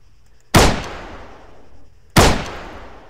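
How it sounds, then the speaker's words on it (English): Two loud, close gunshots ring out in the military game ArmA 3, spaced about a second and a half apart, each with a sharp crack and a long decaying echo. "I'm just going to shoot you in both the knees."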